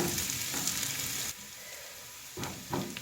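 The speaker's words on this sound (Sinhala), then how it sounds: "කලවම් කරලා තව ටිකක් බෙදෙන්න දෙනවා" Food for Sri Lankan-style spicy mussels being stirred and fried in a pan: a dense, close sizzle that drops away briefly, then swells again with quick stirring scrapes, with no one speaking.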